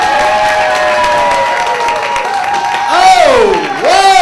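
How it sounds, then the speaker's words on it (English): A comedy club audience at a stand-up night at the Camino Real Playhouse applauds and cheers loudly for a comedian taking the stage, sustained crowd noise with whoops rising near the end. "Give it up for Mr."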